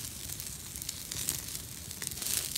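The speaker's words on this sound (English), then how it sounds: "As I listen to my sausages sizzle," Sausages cooking over a campfire in Australian bushland, a faint soft crackle and sizzle with scattered pops and hiss, quiet and steady with slight swells.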